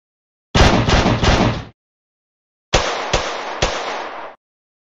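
Gunfire in the Mini Militia video game: two rapid bursts of three loud, sharp synthetic shots each, separated by a short silence, with no talk.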